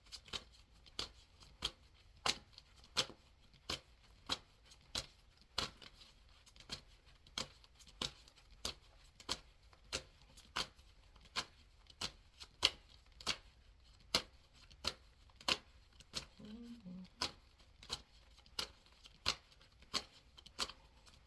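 Tarot cards are shuffled in a steady rhythm of crisp riffling snaps, roughly one every second or so, close and clear against a quiet background.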